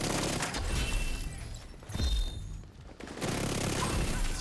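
Gunfire hitting the player in The Division 2, as bursts of rapid shots and impacts come close and loud, break off briefly near the middle, then resume.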